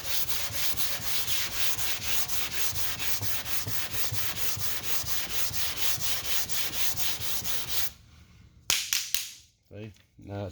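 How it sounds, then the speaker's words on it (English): A sanding block works back and forth over 2K primer on a car body line in steady, rhythmic, close strokes that cut off near the end, followed by a few knocks and a brief voice. "Need to keep sanding. We'll keep blocking on it."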